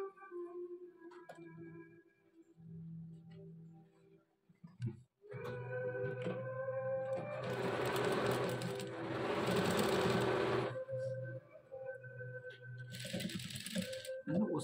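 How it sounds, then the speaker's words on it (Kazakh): A sewing machine stitches a robe hem 1–2 cm wide over an overlocked edge, its motor running in steady bursts with a rhythmic mechanical ticking, fairly close and alone. "Енді осы жерден біз бұлай жалпақтау қылып 1-2 сантиметрден тігіп шығатын боламыз."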